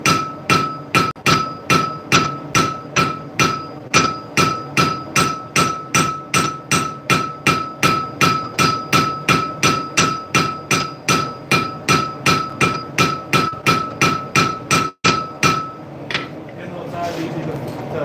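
A blacksmith hammers hot pure iron at the forge in a long, steady run of sharp ringing blows, dozens of evenly spaced strikes that sound loud and close, with someone talking now and then underneath.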